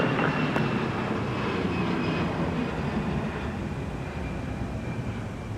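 An airliner rolls for takeoff on a runway at Minneapolis–St. Paul Airport at night, a steady broadband engine roar holding loud and even throughout.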